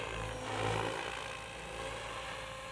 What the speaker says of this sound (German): Jetzt kann ich den Hubschrauber wieder ganz normal steuern